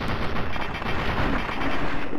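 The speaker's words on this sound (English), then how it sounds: "I just saw the bullets firing next to you" Gunfire in Fallout 3 rattles in a dense, loud, continuous burst of shots, close and with no talking.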